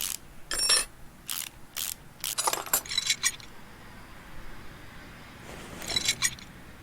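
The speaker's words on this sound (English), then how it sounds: "So let's take off this caliper." Mechanical clicks and ratcheting taps from removing a brake caliper in the Car Mechanic Simulator 2018 video game, arriving in short bursts with pauses between them, then a final cluster of clinks near the end.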